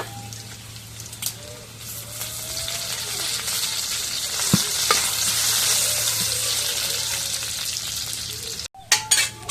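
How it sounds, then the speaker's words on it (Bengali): Cumin seeds and bay leaves sizzle and fry in hot oil, a steady close-up crackle that swells and then settles, with a few sharp pops and a short break near the end. "এখন এগুলো তেলে ভাজা হয়েছে"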